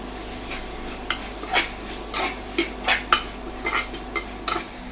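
Spoon scraping and clinking against a pan as chicken is stirred in, irregular strokes, several sharp metallic taps over a steady low background hum, no voices.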